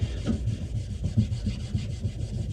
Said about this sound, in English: Buff it nice and hard, get it nice and smooth.